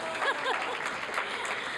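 Brief audience applause at a student Emmy awards ceremony, a short burst of scattered clapping with a few voices and light laughter mixed in.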